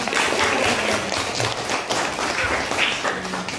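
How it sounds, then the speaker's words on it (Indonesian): Classroom audience applause during a teaching performance exam at a university: a steady, dense patter of many hands clapping for a few seconds, with a faint voice underneath. "Ya, kasih aplaus boleh."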